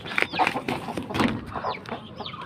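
Farmyard chickens clucking and calling in a close, busy flock, with short overlapping clucks and chirps scattered through and faint rustling beneath.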